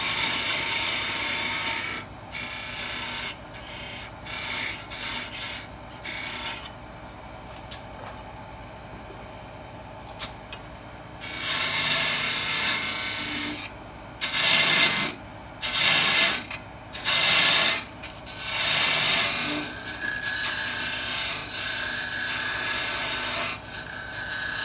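Woodturning tool cutting a wooden split bowl on a lathe, heard as a close, loud, bright scraping rasp in bursts, alternating with quieter stretches of spinning wood and then several short choppy cuts near the end.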